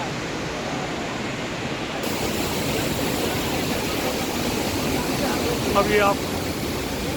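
Bahubali waterfall in Handawada, Narayanpur, heard from right beneath the falls: a loud, constant roar of falling water with a brief spoken word over it.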